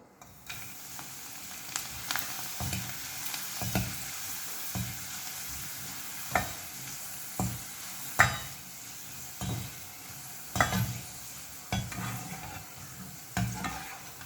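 Dried bitter gourd kondattam fries in hot oil over a lowered flame, giving a soft continuous sizzle broken by scattered scrapes and knocks from stirring, fairly quiet and close.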